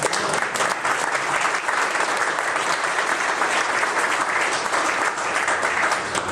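Steady, loud audience applause at a Scuba for Change charity gathering, honoring volunteers; dense clapping sustained throughout without a break, with no talk over it.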